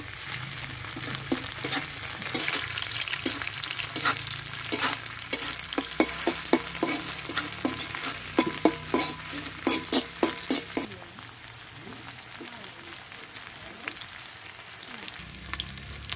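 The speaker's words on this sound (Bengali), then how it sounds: "পেঁয়াজের সাথে চিংড়ি মাছগুলো ভেজে নেব।" Shrimp frying with chopped onions in a pan, a continuous close sizzle punctuated by a rapid series of spatula scrapes and taps as they are stirred, easing to a plain sizzle toward the end.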